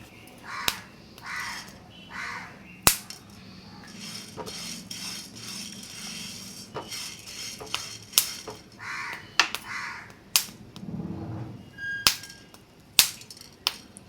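Horse gram seeds dry-roast in a pan, snapping in sharp, scattered pops and crackles at an irregular rhythm, some loud and close, over a quiet background with brief bursts of other noise.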